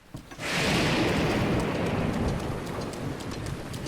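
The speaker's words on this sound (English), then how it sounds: "Not a big fan of the thunder, though." Rain pours down in a thunderstorm in Breath of the Wild, a dense steady hiss that swells in suddenly after a brief quiet start, with a low rumble of thunder beneath.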